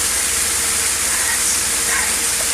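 Minced carrots hit a hot pan, giving a steady, loud, broad hiss that holds evenly throughout with no talk over it.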